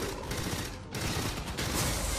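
Automated turret fire at an alien in Alien: Fireteam Elite, a dense, steady stream of rapid shots lasting throughout with a brief dip midway, fairly loud and close.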